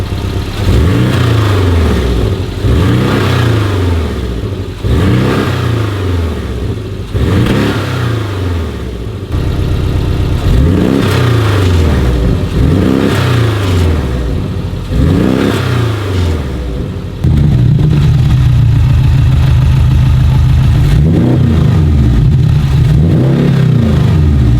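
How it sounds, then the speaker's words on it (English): Porsche 718 Boxster GTS flat-six exhaust revving repeatedly in loud, rising bursts, first stock in normal mode, then with valves open, then with a Milltek exhaust system fitted, ending on a deeper, steady drone; no talking. "hear it before in normal mode and then with the valves open, and then with the Milltek system on."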